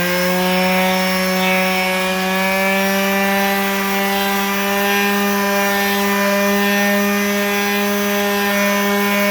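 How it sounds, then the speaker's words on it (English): A palm sander runs on wood with a loud, steady electric hum and buzzing friction, continuous and close throughout, with no talking. "with the palm sander, you want to try to go with the grain"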